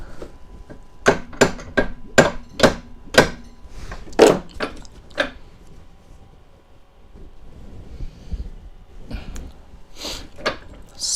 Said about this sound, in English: it needs just a tiny little tappy tap